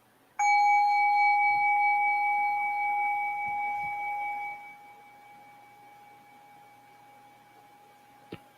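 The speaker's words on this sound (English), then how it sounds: "I'm going to ring the bell on both ends." Meditation bell struck once, a clear ringing tone that sustains for several seconds and slowly decays, close and alone in a quiet room.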